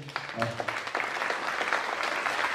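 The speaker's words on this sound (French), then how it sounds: "Je vous demande de les applaudir, c'est pas un exercice facile." An audience claps for four candidates at a lace-queen beauty pageant, a moderately loud, steady round of applause that builds slightly and continues throughout.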